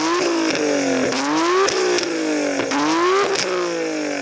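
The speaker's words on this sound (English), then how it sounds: "I'm going to rev up this beautiful R32. Should point out it's got an aftermarket titanium exhaust" Nissan GT-R R32 fitted with an aftermarket titanium exhaust, revved close up in a series of sharp throttle blips, the engine note climbing and dropping again and again with no talking.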